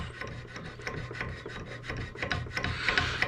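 The bolt lugs of an M1A rifle are lapped with abrasive compound, producing close, steady, rhythmic gritty rubbing strokes with no talk.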